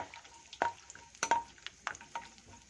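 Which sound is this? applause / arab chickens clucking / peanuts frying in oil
peanuts frying in oil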